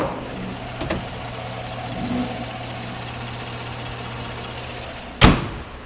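A Chevrolet Silverado pickup's engine runs at a steady idle, a low continuous hum close by with a brief clunk near the end, like a door or hood shutting.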